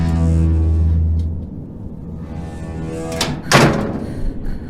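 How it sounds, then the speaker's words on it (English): A door opens and then closes, set in a tense indoor scene: a low rumble gives way to a muffled latch and thunk, followed by a sharper, brighter slam a moment later, heard alone without talk. "I heard the door open and close again."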